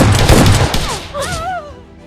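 Gunfire in a Hindi-commentated battle royale mobile game, a dense rapid burst of shots up front that fades into whooshing tonal effects, loud and close.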